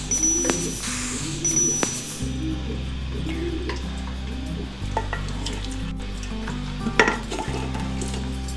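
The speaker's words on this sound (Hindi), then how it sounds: "गोश्त को हाई फ्लेम पे हमने भूनना है" Mutton browns in ghee on high flame, a steady sizzle filling the background while a spoon stirs and clinks against the pot in several distinct strokes, all fairly close and loud with no talk.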